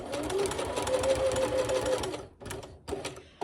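A sewing machine runs a short burst of stitching, back-stitching the seam of a fabric potholder, a close, busy whir lasting about two seconds before stopping, then a brief restart.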